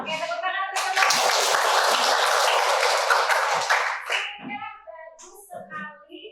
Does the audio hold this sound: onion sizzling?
no